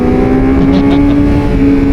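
Yamaha R6 sport motorcycle engine running at a steady high rev, with a loud constant droning tone and road and wind roar throughout, near and continuous.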